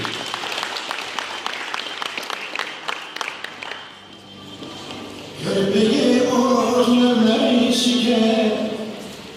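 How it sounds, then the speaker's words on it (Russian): Applause at a Uyghur wedding celebration: several seconds of steady, dense clapping from a crowd that briefly fades, followed by a louder, sustained wash of hall noise. "Аплодисменты!"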